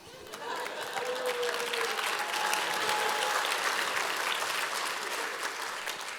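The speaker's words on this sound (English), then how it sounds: "Okay, Cessny, now you can cheer." Crowd at a city State of the City address cheers and applauds fire department leadership, with full, sustained clapping and scattered shouts that swell and then ease off slightly, moderately distant.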